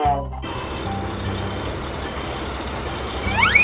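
Garbage truck on a road, a loud idling diesel rumble with a repeating reversing beep, brief hiss bursts near the start and end.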